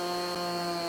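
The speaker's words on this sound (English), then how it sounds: "Again, I don't normally use a chainsaw," A chainsaw cuts through a tree outdoors, giving a loud, steady motor drone with a strong buzzing pitch that holds without a break for the whole second.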